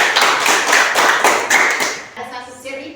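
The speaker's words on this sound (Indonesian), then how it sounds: "Kita berikan tepuk tangan buat teman kita" A class claps for a fellow student, several hands beating in a quick, slightly uneven patter that thins out and fades after about two seconds, leaving faint voices and room noise.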